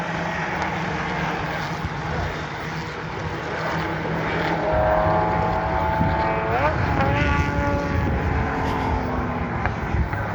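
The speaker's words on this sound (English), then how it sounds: "these are 1946-ish cars, and they're on Donington Race Track." Vintage 1946-era racing cars on the Donington race track, a continuous roar of several engines passing with rising and falling pitch sweeps, loud and close, with people talking underneath.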